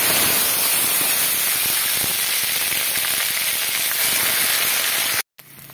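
Onion, garlic and ginger paste fries in refined white oil in a kadai with cumin and a bay leaf, a loud, dense, continuous close sizzle like heavy rain that cuts off abruptly near the end.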